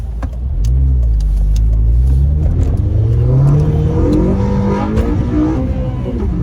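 A Honda Civic Si fitted with an upgraded hybrid racing clutch master and slave cylinder accelerates hard through the gears, its close, loud engine rising in pitch, dropping at each shift and climbing again.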